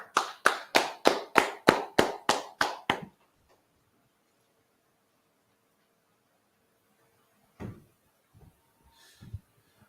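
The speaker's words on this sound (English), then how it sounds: "Y'all clap it up." About ten loud, evenly spaced claps open the recording as a class audience at a scripture breakdown class claps it up, then give way to near silence broken by a few faint knocks and rustles.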